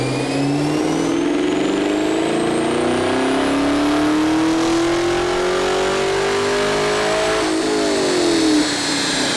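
A Corvette C7 Z06 convertible with an RPM Stage 4 build revs on a dyno, its engine note climbing steadily in one long, loud pull before easing off near the end.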